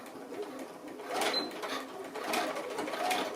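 A sewing machine stitches into fabric holly leaves, a faint, quiet whirring with soft rhythmic needle ticks in a few short runs.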